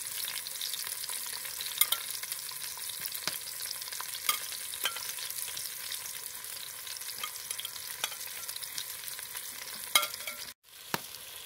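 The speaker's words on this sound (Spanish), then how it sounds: "vamos a sofreír la cebolla. Esta la corté en julianas. Y el pimiento morrón, naranja." Julienned onion and long-cut strips of orange bell pepper sizzle steadily in a pan, a continuous close frying hiss broken by occasional stirring clicks and a brief pause near the end, with no talking.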